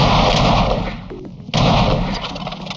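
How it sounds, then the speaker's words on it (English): A cannon fires a live round on an outdoor range: one loud, booming blast that rolls out into a long, rumbling echo and fills the whole clip, with nobody talking. "The cannon doesn't just fire, it fires smoothly and reliably."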